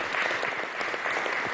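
Dense, sustained applause from an audience at a 2012 ministerial swearing-in ceremony with Hugo Chávez, a continuous wash of clapping hands heard throughout at steady volume.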